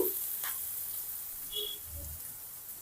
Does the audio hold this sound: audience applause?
no